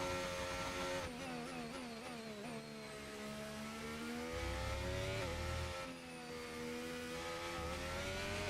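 An F1 race car engine in the F1 25 video game, revving and shifting through gears in a steady, continuous high-pitched whine with rising and falling pitch sweeps, loud and close with no talk.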